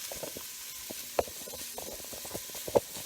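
Meat finishing its cooking in a pan gives a faint, steady sizzle with a few soft crackles and two brief louder pops.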